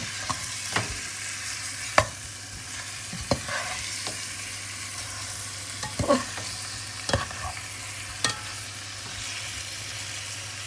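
Onions searing in a pot for boeuf bourguignon give off a soft continuous sizzle, punctuated by a series of distinct spatula scrapes and taps as they are stirred, with no talking.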